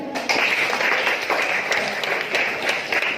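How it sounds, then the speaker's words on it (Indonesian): Hand clapping from a group of teachers during a class-culture presentation, a dense, fairly steady patter of applause that runs throughout. "Tepuk tangan."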